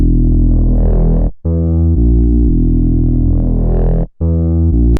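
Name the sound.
Serum 2 sub bass with sine-shape distortion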